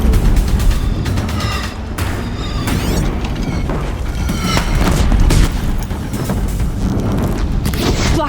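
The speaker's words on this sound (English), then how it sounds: "Deathbringers keep firing," Deathbringer machines fire at a bridge in Horizon Zero Dawn: a dense, loud barrage of booming blasts and rapid shots rolls on continuously, with sharp pings and metallic streaks over heavy rumble.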